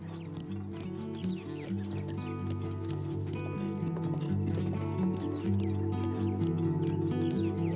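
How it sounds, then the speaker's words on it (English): A horse trots in Zelda: Breath of the Wild, its rhythmic clip-clop hoofbeats running steadily under gentle melodic game music, with faint chirps and no talking. "the occasions when Link trotted beneath the dueling peaks or unearthed treasure across the neighboring shoreline"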